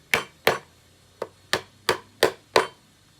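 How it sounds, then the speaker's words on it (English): Small hammer tapping on top of a wooden beehive frame to level it, seven sharp, distinct taps at a fairly even rhythm with one short gap, close and crisp with no talking. "I want to make sure it's level by just tapping on top"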